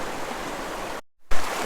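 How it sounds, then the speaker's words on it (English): Water from a river spills down over rocks nearby in a steady, broadband rush, broken once by a brief silent gap before the flow resumes loudly. "and right next to the river there's the water coming down the rock there"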